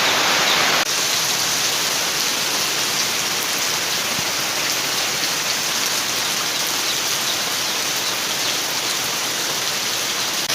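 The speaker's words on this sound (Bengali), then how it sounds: "এত জোর বৃষ্টি এসেছে, ঝাপটা লাগতেছে।" Heavy rain splashes down around a cooking area, a loud, dense, unbroken roar of spattering water that stays steady throughout.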